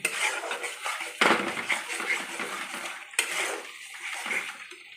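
Masala being stirred and fried in a metal pan for chicken curry, with steady scraping and clinking of a spoon against the pan over a soft sizzle, close and continuous, with no talking.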